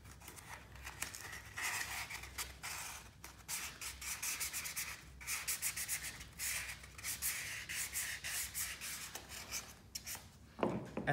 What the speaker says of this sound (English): you just take a bit of fine sandpaper, this is 600 grit, and maybe just run it round quickly and remove any scratches or burrs